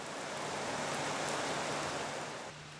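Heavy rain pours down in a temperate New Zealand rainforest, a dense steady hiss that stays even throughout and eases slightly at the very end.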